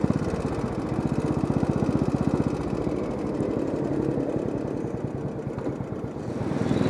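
A Royal Enfield motorcycle engine held at high revs, a steady, loud, rapidly pulsing thump that runs continuously without a gear change, close up and alone.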